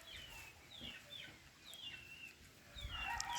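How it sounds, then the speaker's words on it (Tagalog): Native chickens cluck on a small rural farm plot, several short birdlike calls repeating at a moderate distance over steady outdoor background noise. "marami kami guys mga native na manok"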